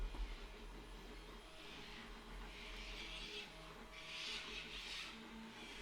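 A Fulcrum Minibot 3D printer runs with a steady low hum and soft rasping, scraping motor movements that swell briefly, fairly quiet and close, with no talking.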